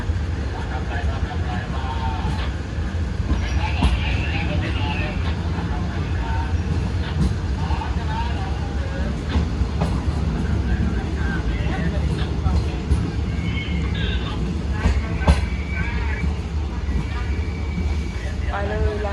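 A train pulls out of Thonburi station in Thailand with a constant low rolling rumble heard from inside the carriage, while people talk over it throughout.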